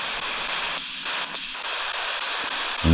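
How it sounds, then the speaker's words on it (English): A spirit box rapidly scanning FM radio stations inside an old theatre gives off a steady, loud wash of white-noise static with brief dropouts, ending in a short burst of tonal radio sound. "it supposedly scans through frequencies and, you know, the whole white noise thing"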